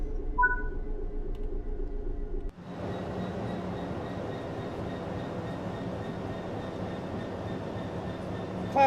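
A Class 66 diesel train in the video game Train Sim World 3 rumbles along the rails, a steady low mechanical drone that surges in loudly after a brief quieter stretch.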